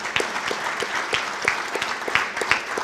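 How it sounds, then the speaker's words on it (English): An audience at a sports hall of fame induction ceremony applauds Mike Carter, dense steady clapping of a moderate crowd, close and continuous with no talk. "let's give him a round of applause"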